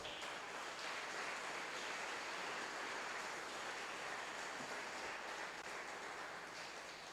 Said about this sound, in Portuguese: Aplauda o Eterno bem forte.